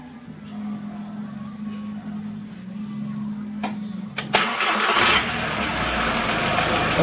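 A Volkswagen Jetta with a past random misfire idles, then its engine shuts off and cranks back to life with a click and a whir, settling into a louder steady idle close by.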